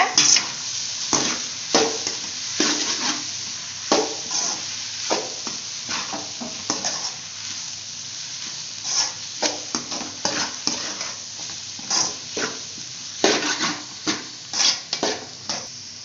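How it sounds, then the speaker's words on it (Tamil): Vegetables and egg are stir-fried together in a pan for chicken fried rice, with a constant sizzle under repeated sharp scraping and clanking strokes of a spatula against the metal. "எல்லாத்தையுமே நம்ம வந்து காய்கறிலாம் ஒன்றா சுத்திக்கலாம் முட்டையோட"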